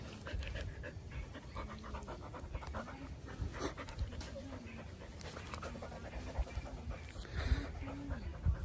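A small dog pants rapidly and steadily near the microphone, with faint whimpers and some background noise throughout.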